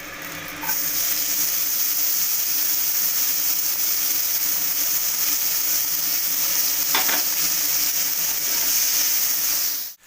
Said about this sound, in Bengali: এই তেলের মধ্যেই আমি কুচনো পেঁয়াজগুলো সব দিয়ে দিচ্ছি